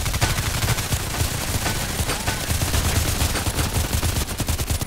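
Rapid gunfire in the online shooter Contract Wars, dense bursts of automatic shots rattling continuously and loudly at close range with no talking over it.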